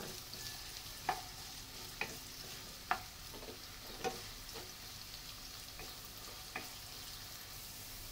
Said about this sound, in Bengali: এখন আমি পেঁয়াজটাকে একটু ভেজে নিব।